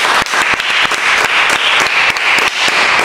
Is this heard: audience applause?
yes